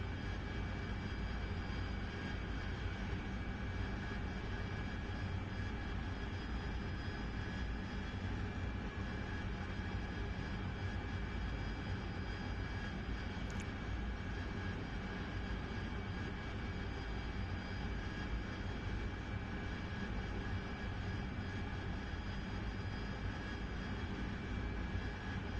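An AV-8B Harrier jet engine in the DCS flight simulator gives a steady, dense roar with a faint high whine that holds level and unbroken throughout, with no other sounds.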